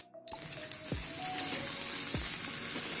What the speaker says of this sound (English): Stir fry this on high fire